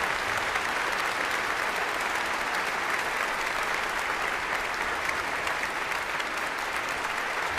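A Vienna concert audience applauds a pianist in a sustained, dense wash of clapping that holds steady and fairly loud throughout, with no voices standing out.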